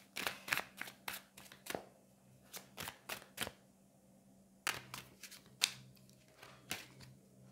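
Tarot cards being shuffled by hand: a series of crisp, close riffling bursts and sharp snaps in uneven clusters, with a quiet pause midway, no talking.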